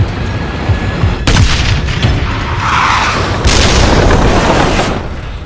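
A rocket fired at a T-54 tank during a Vietnam-era armoured battle gives a heavy, loud boom followed by a long rumbling roar and a second surge of blast noise, with no talking.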